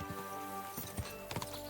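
A horse's hooves clip-clop in the Kingdom Come Deliverance 2 video game, a few uneven thuds standing out over a steady background of game music and ambience, no speech.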